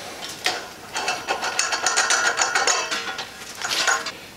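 A gas regulator being unscrewed from a 75/25 welding gas cylinder, heard as close metallic clicking, ratcheting and scraping over a few seconds with a brief hiss-like rise near the end.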